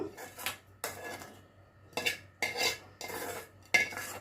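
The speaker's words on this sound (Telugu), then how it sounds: "తాలింపు చల్లారింది చల్లారిన తర్వాత పెరుగులో వేస్తున్నాను" A spoon clinks and scrapes against a bowl in several short bursts, with quiet pauses between the stirring strokes, as cooled tempering is mixed into yogurt.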